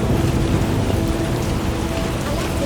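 Heavy rain pours steadily in The Witcher 1, a dense, loud, continuous hiss with a low rumble beneath it, holding constant throughout with no voices.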